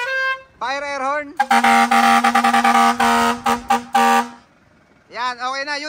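A loud, blaring truck air horn sounds in a long chain of rapid blasts, with someone talking briefly before and after it, during a sound check of a traditional truck unit from Leyte.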